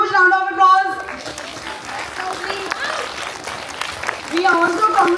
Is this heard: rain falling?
no